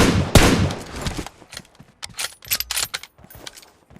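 Gunfire in the mobile battle-royale game PUBG Mobile: a dense, loud burst of rapid shots up front, then scattered, quieter single cracks and short bursts spread over the following seconds.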